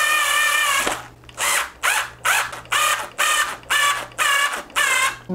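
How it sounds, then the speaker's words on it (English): A power drill drives screws into an electric guitar neck during a Partscaster build, firing about nine short, loud whirring bursts in a fairly even rhythm, each stopping abruptly, with a quiet pause between them. "Whenever you're screwing in necks like this, make sure you actually get the bit that covers all of the head."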